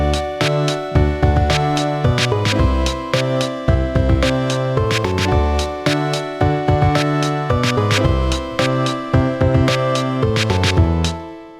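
Indie video game music in a 5/4 section plays full and loud, with bright layered instruments and a punchy, evenly accented rhythmic pulse that repeats throughout, and no talking over it.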